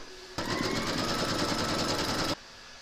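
An embroidery sewing machine stitches a placement outline for batting and fabric in a hoop, running steadily and rapidly for about two seconds with a dense mechanical chatter, then stopping abruptly.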